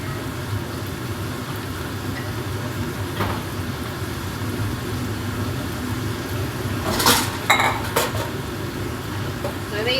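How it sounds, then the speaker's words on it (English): Utensils scrape and clink against dishes while food is served onto a plate for dinner in a home kitchen, a brief cluster of metallic clatters over steady room noise. "Just going to show you how I dish it up for dinner"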